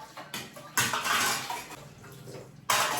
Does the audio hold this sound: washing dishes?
yes